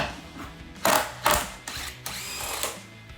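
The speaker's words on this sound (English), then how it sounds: "I'm going to use the key lock socket with my impact and take that right off." Impact wrench with a key lock socket spins off the locking lug on a Jeep Wrangler JL spare tire, giving several short loud bursts of whirring and rattling hammering, then a steadier mechanical buzz near the end.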